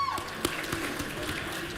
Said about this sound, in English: I really get a feeling that table's only clapping for you